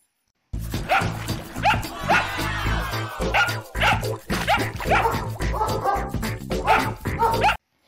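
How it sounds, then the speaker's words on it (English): A dog barks repeatedly close by, quick sharp barks in an uneven rhythm, with a low hum underneath. "D for dog."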